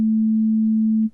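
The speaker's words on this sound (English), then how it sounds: "Beep. That's a sine wave." An analog oscillator sounds a pure sine-wave beep, one loud, steady low tone held for about a second before cutting off abruptly.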